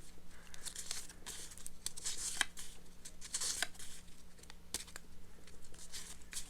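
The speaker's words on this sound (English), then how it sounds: "We're going to shuffle these a little bit." Playing cards are shuffled close by, with rapid papery riffles and soft flicking bursts repeating over a few seconds, quiet and alone.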